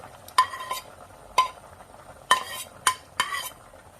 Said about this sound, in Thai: พอทุกอย่างสุกแล้วก็จะใส่ผักพวกนี้ลงไปเลย